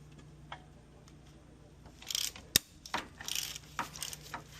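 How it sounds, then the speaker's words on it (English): Metallic clicks and ratcheting from a wrench with a size 21 socket loosening brake caliper bolts on a Jeep JK front axle; faint, scattered ticks with one sharp louder clank midway. "Now we need to take the brake caliper and rotor off with your size 21."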